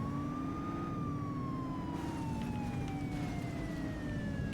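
A police car siren wails steadily in the video game The Precinct, a continuous gliding tone with a slowly falling pitch and a constant low rumble beneath, and no talking.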